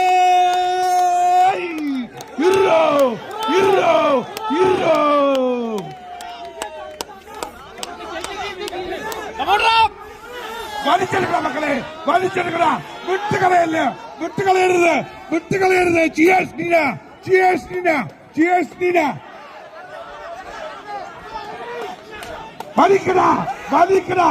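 Spectators cheer and shout at a fierce tug of war match between rival teams at an all-Europe contest in Ireland, rhythmic chanted calls and whoops rising in waves, loud and close, with crowd chatter filling the gaps throughout.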